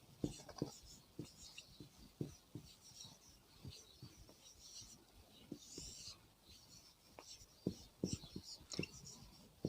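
Chalk or marker scratching on a classroom board during a Hindi grammar lesson, a steady run of short taps and rasping strokes, faint and close.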